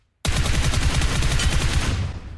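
Sudden burst of rapid automatic gunfire in PUBG Mobile, a loud, close, continuous rattle of shots lasting about two seconds, no voices.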